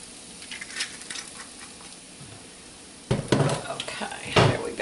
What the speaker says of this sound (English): Just going to let this cook until it browns up a little bit. Might need a little bit more oil here.